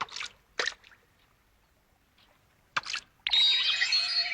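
A fish splashes back into water in a cartoon scene, heard as a loud, sustained wet splash after a few short squishy, dripping bursts, with no talking.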